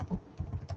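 Short patter of computer keyboard keystrokes, soft and close, a few quick clicks with no voice.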